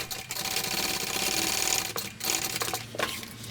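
A sewing machine stitches shoulder bag pieces together along a seam, running in a close, loud, fast continuous whir that pauses briefly twice before restarting.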